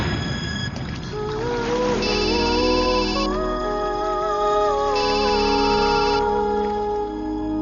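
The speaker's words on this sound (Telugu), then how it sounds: "నీ గురించి ఆలోచిస్తుంటే నువ్వే ఫోన్ చేసావు" A mobile phone ringtone plays for an incoming call in a Telugu comedy film scene, a steady looping electronic melody with repeating tonal phrases over background music, loud and continuous with no talking.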